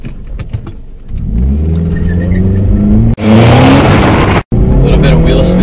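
A 2005 Scion tC engine revs hard from a red light and climbs through the gears in loud, close acceleration with slight wheel spin, briefly cutting out between shifts, with a voice heard over the start.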